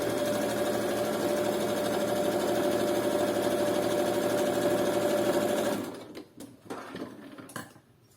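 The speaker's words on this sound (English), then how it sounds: "sew that in a straight stitch too" A sewing machine runs a steady straight stitch on a string bikini top, loud and continuous for several seconds before stopping, followed by a few faint handling clicks.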